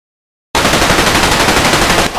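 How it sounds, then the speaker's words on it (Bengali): A toy gun fires a loud, continuous burst of rapid machine-gun-like rattling pulses that lasts about a second and a half, then abruptly cuts off. "এই খেলনা বন্দুক দিয়ে আমার মারবে আইছস?"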